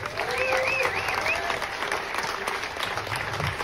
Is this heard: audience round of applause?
yes